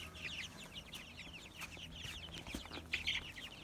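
Meat chickens cluck busily in a yard, a dense overlapping chorus of short calls close by with occasional louder squawks.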